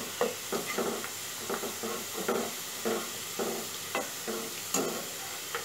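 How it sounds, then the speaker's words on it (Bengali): Shredded potatoes frying in oil for crisp Bengali jhuri alu, stirred steadily: a continuous close sizzle and hiss with regular scraping strokes of the spatula, no talking. "এখন আলুটা ভাজা হতে শুরু করেছে"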